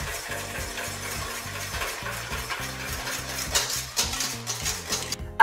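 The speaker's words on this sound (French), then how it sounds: "Vous pouvez maintenant verser votre lait et crème tout en mélangeant au fouet." Milk and cream whisked together in a pan for vanilla crème brûlée give a close, busy run of rhythmic scraping and metallic clinks, growing a little louder and more irregular toward the end.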